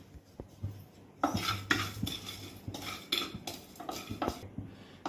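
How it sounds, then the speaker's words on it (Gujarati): Whole spice mix (masala) being dry-roasted in a metal pan, with a spoon scraping and clinking against the pan in repeated close, rhythmic strokes and no talking. "હવે આખો મસાલો આપણો શેકી લઈએ"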